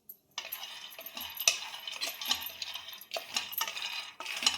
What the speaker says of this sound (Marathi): शेंगदाणे भाजून द्यायचे